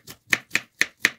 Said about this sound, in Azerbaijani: Əvvəlcə iki baş soğanı kub-kub doğrayıb yağda qızardırıq